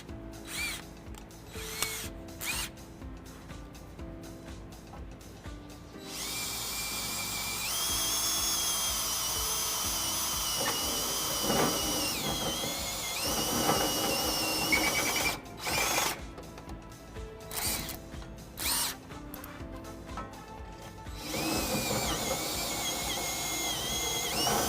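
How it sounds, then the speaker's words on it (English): Power drill with a reamer bit enlarging a pilot hole in the frame of a 2009 Dodge Ram 1500, a steady high whine running in long bursts with brief pauses between, close and clear with no talk. "Now we have our pilot hole drilled. We'll go to our reamer bit."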